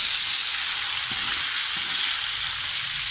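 Goat brain (maghaz) frying in a pan with browned garlic, a steady loud broadband sizzle with faint stirring knocks partway through, no talk.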